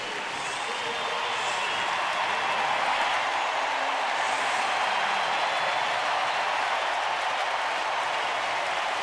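A packed baseball stadium crowd of 42,662 fans at a night game roars steadily, a dense wall of cheering and clapping that stays loud and even throughout.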